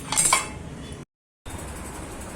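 Metal pots and utensils clink sharply for a moment while a pressure cooker of dal is set up in a home kitchen, then a quieter clatter continues after a brief silent gap.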